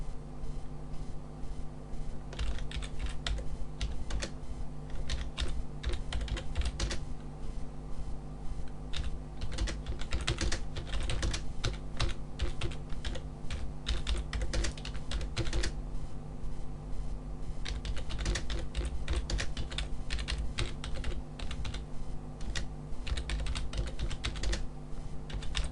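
Rapid, uneven keystrokes on a computer keyboard as a message is typed, with continuous close clicking bursts and short pauses against a steady background hum.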